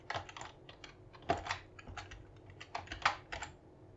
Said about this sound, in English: you'll just click on the text icon and then type out the name.